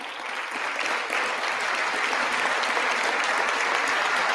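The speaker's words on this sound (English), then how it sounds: "please rise and applaud" Sustained applause from a large audience of patrons rising to their feet at a political address, dense and steady clapping filling the whole stretch without a break.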